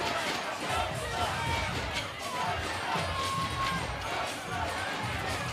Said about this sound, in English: You hear the Novi Sad chants beginning as they got their own cheering section.